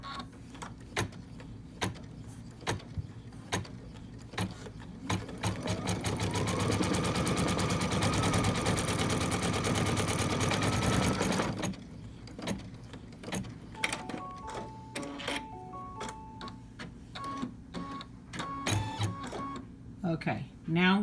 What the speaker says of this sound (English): then it'll tack it down, and then we'll flip it over and it'll sew it down